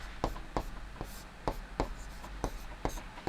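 A pen writes on paper in a close, crisp rhythm of regular short taps and scratches, roughly three strokes a second, while a math lesson on arithmetic progressions goes on.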